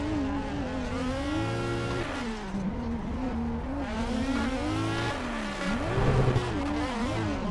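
A sim-racing car drifts with handbrake flicks, its engine revving and wavering continuously while tires squeal through the slides, with no voices over it.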